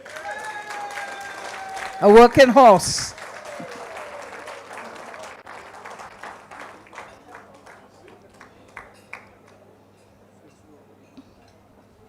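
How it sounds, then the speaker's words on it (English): Audience applause at an anniversary awards banquet, a short loud burst of clapping that quickly fades to scattered claps, with talk over much of it. "Let's give them all a round of applause"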